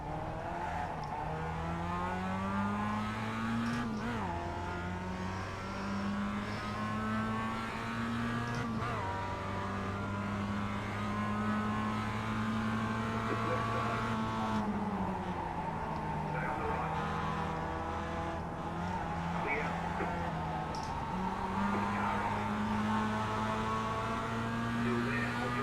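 Mazda race car engine in the iRacing simulator, a steady loud drone climbing in pitch through each gear then dropping at upshifts, revving continuously over a long run, with a driver talking over it.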